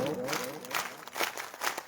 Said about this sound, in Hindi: ताली बजाना माँ के नाम की ताली है, राम के नाम की ताली है, देव के नाम की ताली है।